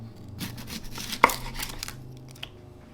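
Raw white onion being sliced on a board, with a run of soft close knife cuts and one sharper knock of the blade.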